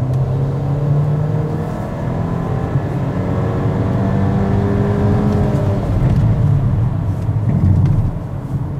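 An Infiniti Q30 Premium Tech engine revs under throttle, a close, steady drone that climbs gently in pitch and swells slightly near the end, with no talking.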